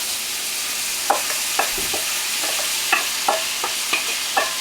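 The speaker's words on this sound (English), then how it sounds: "you're going to add the 2 small diced red peppers and 1 small diced onion, and you're going to cook it until it's soft" Diced red peppers and onion fry in a pan with a steady broad sizzle, while a utensil clicks and scrapes against the pan about eight times as the vegetables are stirred.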